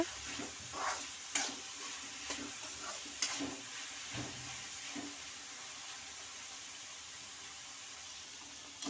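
Bitter gourd frying in a generous amount of oil in a pan makes a faint, quiet sizzle, punctuated by a few sharp clicks and scrapes from stirring.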